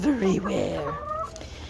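Chickens in a new coop give a few short clucks and a drawn-out call, close by, with a voice talking over them.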